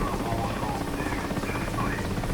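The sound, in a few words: Mi-8 helicopter taking off in DCS video game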